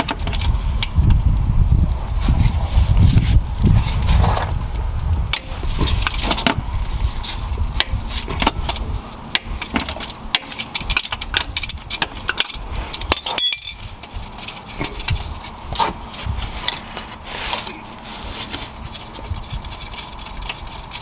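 Metallic clinks and ratcheting clicks from a wrench working loose a starter bolt under a 2014-2016 Hyundai Elantra, non-turbo, repeated in short bursts close by with a steady low background rumble.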